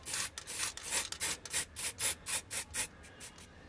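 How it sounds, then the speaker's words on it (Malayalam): A paintbrush is worked over a rusty car pedal in about a dozen short, scratchy back-and-forth strokes, close up and evenly spaced, fading out near the end. "ആ തുരുമ്പൊന്ന് അടുത്ത നിൽക്കാണ്ട് വെച്ച് ഒന്ന് പെയിൻറ്റ് അടിച്ചു കൊടുക്കാം"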